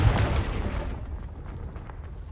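A Confringo fire spell in the Hogwarts Legacy video game bursts into a booming explosion, loud at first and then rumbling away into a fading, crackling tail.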